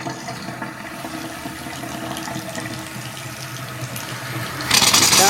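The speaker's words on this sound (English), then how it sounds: "we turned the faucet on up here for the first time" A newly plumbed faucet in a pole barn house bathroom runs steadily, its close, continuous water rush turning louder and hissier near the end as air sputters through the fresh lines.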